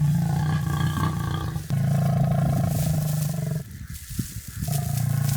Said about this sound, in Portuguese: Em vez disso, eles rugiram, cada som ecoando por toda parte como um sinal silencioso